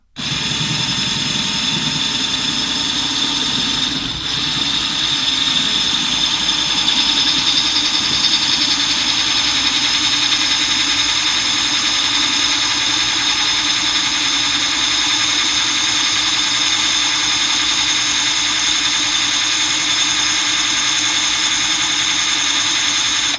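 Drill boring a drainage hole, running at one continuous, steady high whine for over twenty seconds, loud and close with a constant pitch and no talk.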